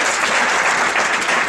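A crowd gives sustained, dense applause to welcome a guest at a municipal council event in Churu, loud and even throughout with no pauses.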